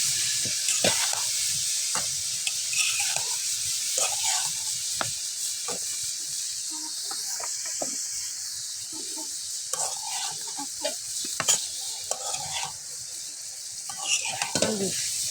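Bottle gourd greens with potato and stems sizzle and hiss in a pan, with a steady frying crackle under occasional stirring scrapes and clinks at close range.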